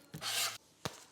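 Papery garlic skins rub and crackle as cloves are peeled for lamb birria, a short scratchy rustle followed by a brief sharp snap, close and quiet.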